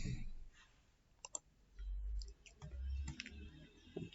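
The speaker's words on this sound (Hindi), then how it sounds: "फिर आप एंटर करते हैं" Computer keyboard keys being pressed, including Enter, while entering accounting data in SAP software: a few light, close clicks and taps set over quiet room noise and soft low thumps.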